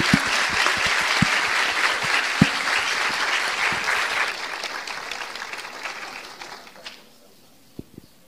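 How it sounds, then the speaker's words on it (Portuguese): An audience claps for the guests of a debate, loud and dense applause that holds steady and then fades out, leaving a few isolated claps and quiet at the end. "uma salva de palmas para os nossos convidados"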